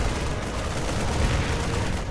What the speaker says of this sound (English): Siege tank fire and all.